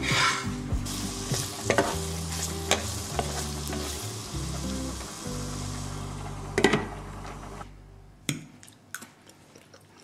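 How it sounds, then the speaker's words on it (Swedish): Frozen food frying over high heat in a pan, sizzling and crackling up close while a utensil stirs and scrapes it in uneven bursts, the sizzle dropping away near the end. "Och det gäller typ allt som man steker från frysen."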